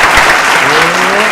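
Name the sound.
crowd applause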